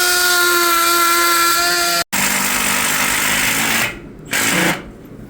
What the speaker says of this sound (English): He drills through the wood,